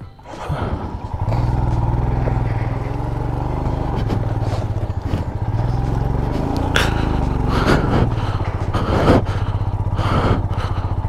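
Motorcycle riding over a rough, broken road near a collapsed bridge, a steady engine drone with rattles, scrapes and jolts of the bike over stones throughout, close and loud, no talking.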